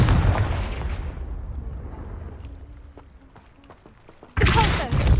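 Confringo fire spell explosion in Hogwarts Legacy, a loud booming blast that rumbles and decays over several seconds, followed by a second sudden burst near the end.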